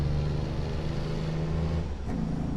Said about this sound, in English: That engine brake sounds nice.